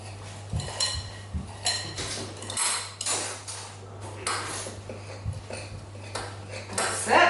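The back of a spoon scraping and knocking against a bowl while a well is made in flour mixed with salt, several irregular clinks and scrapes close by over a low steady hum.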